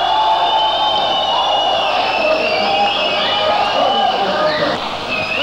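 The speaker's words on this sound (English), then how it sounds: "Come on, cheer nice and loud." A concert audience at a 1984 rockabilly show in Bristol cheers and hollers loudly, a dense, close wash of whoops and shouts that keeps going the whole time.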